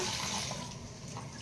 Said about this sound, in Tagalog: ibabad ko siya sa tubig